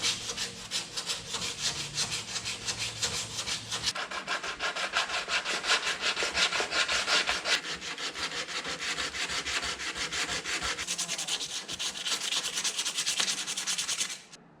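Body filler on a Nissan Patrol panel is sanded by hand with steady rasping back-and-forth strokes, close and continuous for over fourteen seconds, with a brief change in pressure partway through before it stops abruptly.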